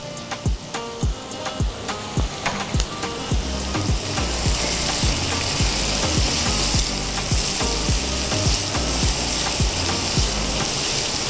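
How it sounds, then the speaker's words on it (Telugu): Onions for a mutton cashew curry sizzle and fry loudly in a pan, with a steady hiss and repeated sharp scraping stirs near the start, the frying growing denser and more continuous. "కొంచెం గోల్డెన్ బ్రౌన్ వచ్చే వరకు ఫ్రై చేసుకోవాలండి"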